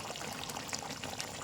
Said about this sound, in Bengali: তো আমরা এখন ঝোলের জন্য হালকা একটু জল দেব, বেশি দেব না